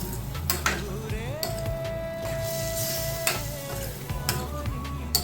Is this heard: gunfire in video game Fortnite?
no